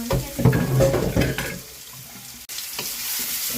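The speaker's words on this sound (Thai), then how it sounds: "รอน้ำมันร้อนสักครู่ แล้วก็ใส่พริกที่เราตำลงไปครับ" Pounded chili hits hot oil in a pan and sizzles while being stir-fried, a close crackling hiss with stirring scrapes, easing briefly then rising again after a sharp clink.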